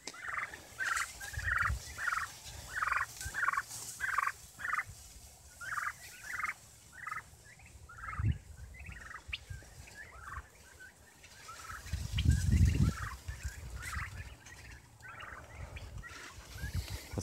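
Turkeys gobble repeatedly on a homestead farm, a rapid run of rhythmic calls near and clear, then a few scattered gobbles with low rumbling noise, and no talk.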